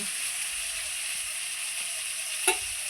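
Eggplant (brinjal) slices frying in hot oil, a steady even sizzle running throughout with one brief clatter near the end, close and moderately loud, no voices.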